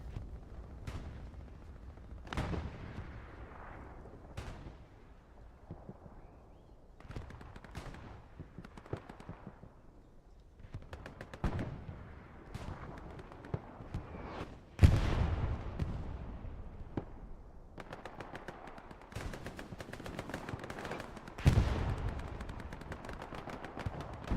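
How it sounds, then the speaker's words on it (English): Gunfights in the WWII shooter Hell Let Loose, with scattered rifle cracks, machine-gun bursts and heavy explosions, some distant and some close, spread across a quiet battlefield. "101A is winning their gunfights handily"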